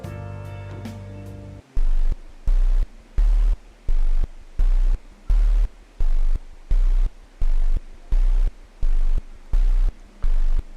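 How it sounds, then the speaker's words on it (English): Arpeggiated basic sine-wave synth, saturated and stereo-widened, starting with a brief sustained tone and then pulsing in a steady rhythm of about a dozen loud, evenly spaced bursts with deep low-end thumps. "I use some arpeggiation, basic sine waves, saturated it, made it wide, and on its own sounds like this."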